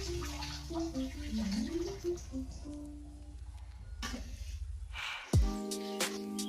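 Soaked, sprouted beans are rinsed in water in a home kitchen; sloshing and splashing come through briefly amid steady background music, followed by a sharp clatter and a tonal ring.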